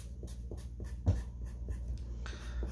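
Pen or marker strokes across a surface while working out a math problem, a run of faint scratching marks at a steady pace with a low hum behind them.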